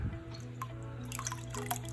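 A little water trickles and drips into a small sauce cup, making light splashy patters up close against a faint steady hum.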